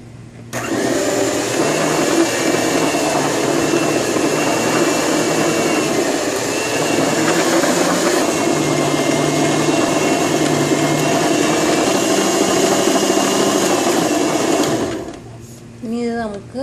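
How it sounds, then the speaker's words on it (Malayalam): An electric beater fitted with a kneading hook works rice flour dough for pathiri, giving a loud, continuous motor whir that runs steadily before cutting off near the end, followed by brief handling noise. "ഒരു ഇലക്ട്രിക് ബീറ്ററിൽ ഇതുപോലെയുള്ള നീഡർ ഇട്ടിട്ട് അതിലേക്ക് മാവിട്ട് നമുക്ക് നന്നായി ഒന്ന് നീഡ് ചെയ്യാം"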